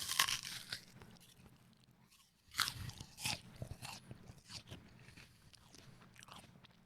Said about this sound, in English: Let's take another bite.